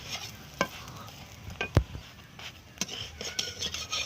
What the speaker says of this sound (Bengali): তো আমি পরোটাগুলো ভেজে নেব মেথি শাকের